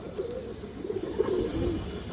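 A large female army pigeon coos nearby: a few low, soft, rounded coos spread over a steady background hiss, growing a little fuller toward the end, with no talking.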